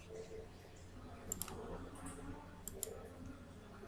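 Light computer keyboard keystrokes during transformer design drafting work, with a few sharp clicks standing out over a steady low hum, sparse and fairly quiet, no voices.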